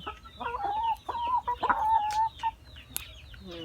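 Laying hens on a small egg farm clucking nearby, a run of repeated short clucks and drawn-out calls from several birds, fairly close and clear.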